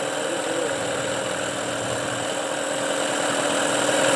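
A Mercury 9.9 horsepower outboard motor idles low and steady on a Tracker boat, a continuous close mechanical drone with a faint knocking texture and no voices.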